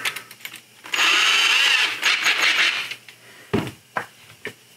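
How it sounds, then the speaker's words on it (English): A handheld drill bores a 1/8 inch hole in a sculpted figure, one whining burst of about a second and a half after a few small taps, followed by scattered handling clicks. "So I'm actually going to drill a 1/8"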